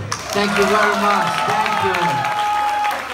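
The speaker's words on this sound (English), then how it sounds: "So big applause for everyone here." Applause from a crowd at a stage event in Taizhou, China, running under a voice as he speaks briefly into a microphone, with the clapping staying steady throughout.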